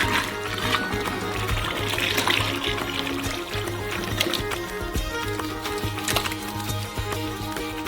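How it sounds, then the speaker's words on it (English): Melted palm oil mixed with sugar pours into large basins with a steady liquid trickle and splashing, mixed with clatter from a busy workspace. "Here we also pour melted palm oil with sugar."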